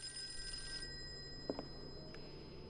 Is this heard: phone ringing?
yes